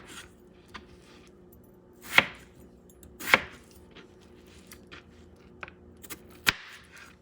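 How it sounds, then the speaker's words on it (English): A knife chops through a peeled potato on a cutting board in a home kitchen, a few crisp separate cuts spaced a second or so apart, fairly quiet and close with no talking. "You have a potato. Cut a piece after you peel it."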